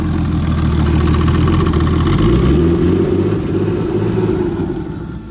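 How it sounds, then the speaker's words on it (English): A turbocharged BMW E36 engine runs steadily and loud nearby, a dense low rumble with a faint rise in pitch midway as it comes onto boost, then easing slightly at the end. "Car's hitting boost. It sounds good."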